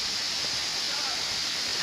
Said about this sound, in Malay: Air terjunnya